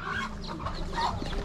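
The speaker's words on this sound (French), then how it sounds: "il y a les poules là qui se nourrissent" Hens cluck and feed beside an informal rubbish dump in the village of Mtsangadoua on Mayotte; steady, close clucking runs throughout with no voices.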